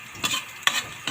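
Onions, garlic and green chili fry for pork adobo, short bursts of sizzle and scraping stirring come three times in about a second against a quiet hiss of hot oil.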